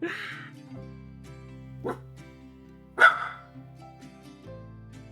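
A dog barks a couple of times, sharp and fairly close, with a low steady hum and faint background sounds between the barks.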